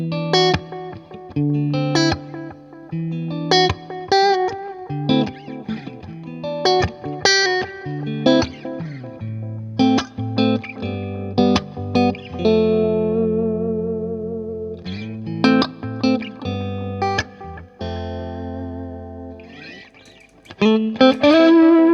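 Electric guitar on a clean amp channel with a boost pedal and light reverb plays a melodic run of picked single notes and chords, loud and close with ringing sustain, ending on a brighter strummed flourish.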